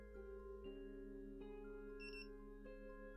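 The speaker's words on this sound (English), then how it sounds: "press and hold the button for a couple of seconds until we hear a couple of beeps" A ViFly Beacon drone locator switching on gives out a series of electronic tones and beeps, several stepped pitched notes and a brief chirp, faint and alone.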